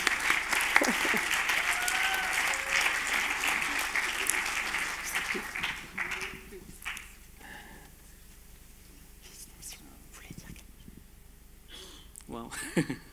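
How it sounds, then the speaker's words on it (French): Audience applause at a film festival award ceremony, loud and dense at first, then thinning to scattered claps and room noise as people move, with voices in the background. "Il va falloir continuer les applaudissements afin de laisser le temps aux personnes de descendre"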